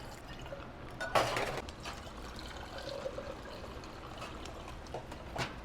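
Liquor is free-poured behind a bar for lemon drop shots, a faint close trickle with a brief splashy start and a few small clinks.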